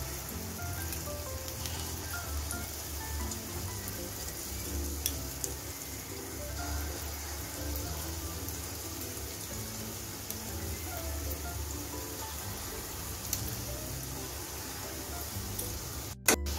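Ripe mango fritters (bora) sizzling in hot white oil in a kadai, a steady crackling fry that runs unbroken and fairly close throughout, with a faint voice now and then.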